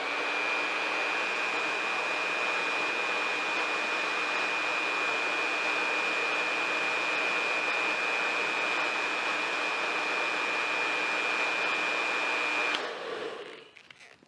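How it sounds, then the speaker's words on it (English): A hot hair dryer blows hard and close, its steady whooshing roar with a high whine running evenly for about thirteen seconds before it switches off and winds down. "This dryer's nice and hot."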